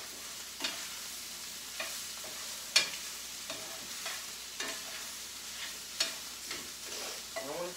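Ground meat with peppers and onions browns in a hot pan under a constant moderate sizzle, with a spatula scraping and turning it in sharp strokes every second or so.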